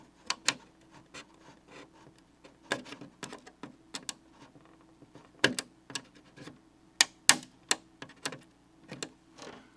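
Scissors trimming a clear Lexan plastic RC car body make a series of sharp, close snips and crisp cuts in an irregular rhythm, with faint rustling of the plastic between them.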